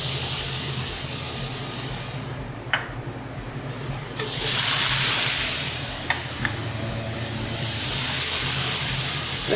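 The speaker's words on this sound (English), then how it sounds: "Then you can just stir fry that around." Celery, kimchi and green onions stir-frying in a pan at a brunch cooking event, a steady close sizzle with a few sharp clicks and scrapes of stirring.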